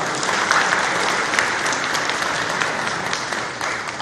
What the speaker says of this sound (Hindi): इसके लिए तालियां बजाइए सरकार।